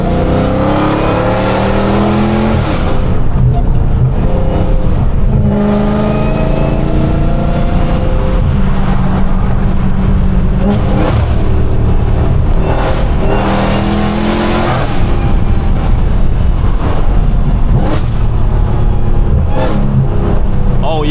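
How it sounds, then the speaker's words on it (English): A car engine revs hard as the driver pats the gas through a turn, loud and close with rising and falling surges over a continuous roar, tire and road noise underneath. "I patted the gas while turning"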